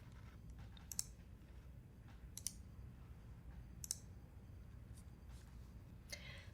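A few sparse, quiet computer mouse clicks, single and double, are heard while a file is deleted in Windows by right-clicking, each a sharp tick over faint room hum.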